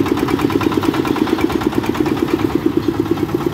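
A small 3-ton palm oil carrier built for peatland runs its engine steadily, a close, loud putter with a fast, even rhythmic pulse throughout.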